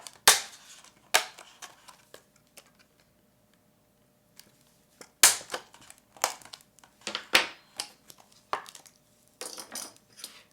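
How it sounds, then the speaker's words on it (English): Sharp, separate snaps and clicks of a punch going through a plastic face shield for eyeglasses, in uneven bursts with quiet gaps between, close and crisp. "And then we're going to punch right where the crosshairs meet."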